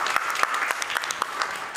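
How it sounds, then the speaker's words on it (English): Short burst of audience applause at a board farewell during a talk on automation and safety regulation, moderate and steady with individual claps audible throughout. "Give her a round of applause."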